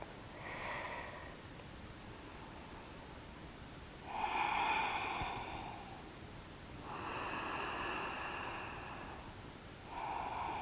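Breathing through a yoga forward fold: slow, soft breaths heard up close, swelling in about four separate drawn-out waves with quiet gaps between, and no speech.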